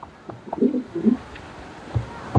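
Pigeons at a crowded pigeon market give soft, low coos in two short bursts, with a few faint thumps and scattered market noise around them.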